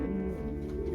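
Racing pigeons coo in a small loft where young birds are pairing up, a low, throaty, rolling coo heard up close and continuous.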